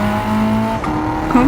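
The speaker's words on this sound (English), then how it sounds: "He spun out of control, that's crazy." Car spinning out in Gran Turismo 7, a loud steady engine drone with a rising tire squeal near the end, heard alone without talk.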